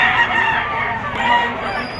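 Roosters crow and chickens cluck in a dense, continuous chorus at a poultry auction market in Lipa, with overlapping calls filling the whole stretch at close range.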